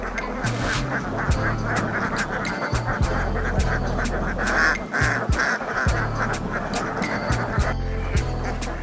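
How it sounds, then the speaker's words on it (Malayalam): Ducks at Parakkal Kadavu in Kottayam quack repeatedly and busily, close by and loud, with sharp clicks and a low hum underneath. "താറാവ് പോകുന്നുണ്ട്"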